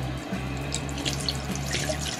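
Hands rinsed with plain water and no soap under a running tap: a steady, close splashing stream that continues for the whole stretch, with no voices.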